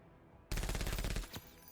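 Chain gunner machine gun fire from the Menace video game bursts in after a short quiet: one loud, rapid rattling volley of about three quarters of a second, followed by a single extra shot.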